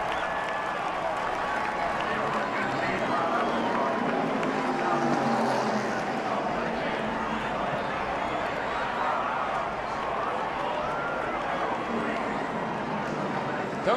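Broadcast crowd noise at a NASCAR race: a steady, dense roar of applause and cheering from grandstands during a standing ovation, with no break across the stretch.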